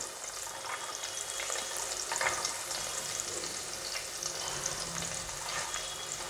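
Peas, carrots and beans sauté in a pan with onion and curry leaves, giving a steady, close sizzle that holds at an even level throughout with no talking.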